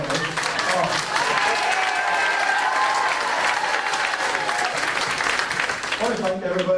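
An audience claps loudly and continuously through a speech at a family gathering, dense applause with voices mixed in, easing off briefly near the end.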